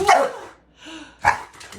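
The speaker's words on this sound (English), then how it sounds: "You're barking. Are you barking?" Coco, a special needs pup, gives two sharp, close barks separated by a short pause, with a quieter whimpering sound between them.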